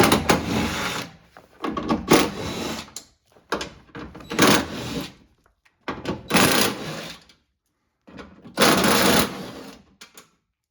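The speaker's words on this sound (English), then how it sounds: "Remove the other 5 bolts, 10mm heads." Power tool backing out 10mm bolts from the window regulator of a 2007-2013 Toyota Tundra, in about six loud, rattling bursts separated by short pauses, close up with no talking.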